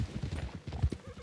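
Horse hooves clip-clop in a video game, several animals stepping in a quick, uneven rhythm, close and moderately loud, with faint whinny-like sounds mixed in.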